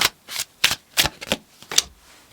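Tarot cards are shuffled in several quick, crisp riffling bursts, each lasting a fraction of a second and separated by brief pauses, close and clear with no voices.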